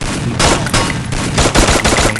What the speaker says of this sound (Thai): เราโดนยิงครับ อยู่ข้างหลังเราตอนนี้